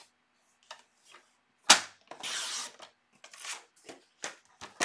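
Paper being cut into a 4-inch frame for a handmade card: a few light taps and clicks, then one longer rasping slide of a trimmer blade through the sheet, followed by more scattered short handling sounds, close and fairly quiet.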